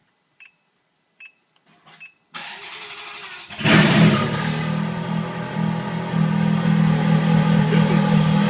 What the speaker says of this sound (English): I'll start the car and the valve will be off.